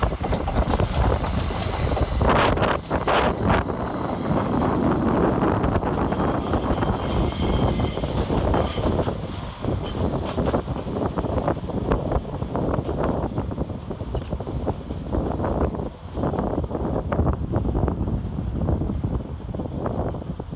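Class 333 unit 333.006 pulls out of Leeds railway station with a steady loud rumble of wheels and motors, rising whines and squeals over constant station noise, close by and with no voices.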